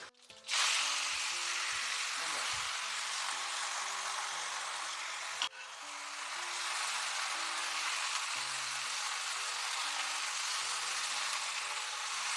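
Gongura leaves frying in hot oil with a little mustard seed, a steady, close sizzle that rises quickly, breaks briefly midway, then carries on evenly over soft background tones.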